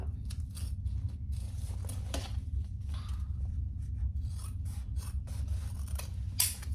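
Scissors trim fabric around curved edges for a hip bag, a run of quick, close snipping and rasping cuts over a low steady hum, with no voices.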